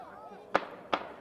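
Two sharp gunshots ring out a little under half a second apart, loud and fairly close, each with a brief echoing tail over a dim background murmur.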